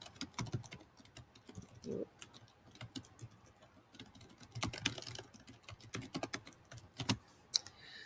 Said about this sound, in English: now when I delete that and I start typing again